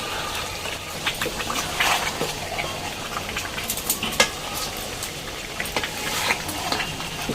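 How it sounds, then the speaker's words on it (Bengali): Mutton for biryani stirred in a pot over a clay stove, with a steady close sizzle, wet scraping and intermittent clinks from the spoon against the pot throughout. "এখন বারবার একটু নাড়ছি।"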